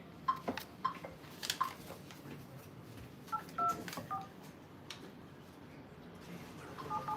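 Telephone keypad tones beep one after another over a murmuring background in a mobile phone showroom during a live lucky draw, as a customer's number is dialed.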